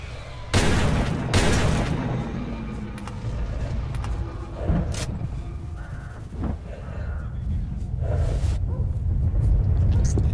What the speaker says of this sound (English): My new shotgun.